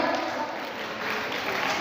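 A crowd at an outdoor yoga day event claps in a brief, steady patter, with a voice faintly mixed in beneath the clapping.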